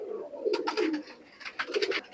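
Imported Oman Teddy pigeons coo in two close, fairly loud bursts, each a rolling throaty warble with brief breathy edges, separated by a short quieter pause; no talking.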